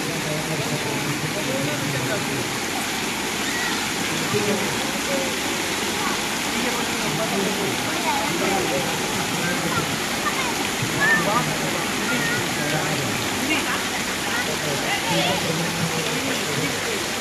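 A park water fountain with statues splashes in a continuous, fairly loud spray and patter, with people talking now and then over the rushing water.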